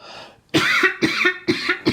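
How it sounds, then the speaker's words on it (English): Close, harsh coughing in a quick run of three or four bursts, loud against a quiet background. "Excuse me. I coughed."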